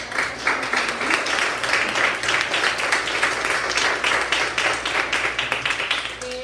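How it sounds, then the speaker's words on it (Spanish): Audience applause for a guest speaker at a lecture on medications, dense, even hand clapping sustained throughout, fairly close and loud, with no talk over it. "Démosle un fuerte aplauso, por favor."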